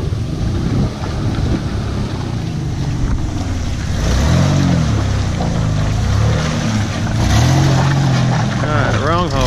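A truck churns through a mud hole on a farm, its engine roaring and revving up and down loudly and continuously, with sloshing and rumbling throughout and a voice talking in the background.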